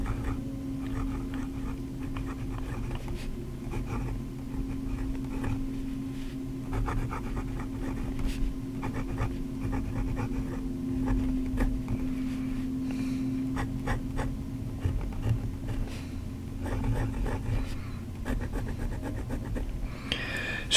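An Asvine P50 piston-fill fountain pen writing on paper, soft close scratchy strokes in an irregular rhythm over a low steady background hum.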